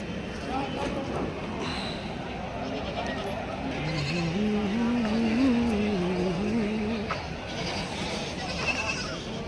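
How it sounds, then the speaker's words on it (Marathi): Kathiawadi goats bleat at a busy livestock market in Shirur, Pune district, with a long wavering cry rising above the crowd noise and people talking throughout. "इकडे काठेवाडी शेळ्या आहेत"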